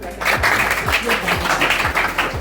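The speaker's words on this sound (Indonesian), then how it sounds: "Kasih tepuk tangan" A classroom audience applauds for a group about to present, a steady spread of clapping from several people, with a few sharper claps standing out.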